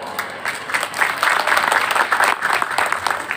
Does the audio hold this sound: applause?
yes